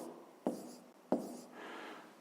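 Pen writing numbers on paper for a fifth-grade math exercise, two short scratchy strokes followed by soft continuous scribbling, close and faint.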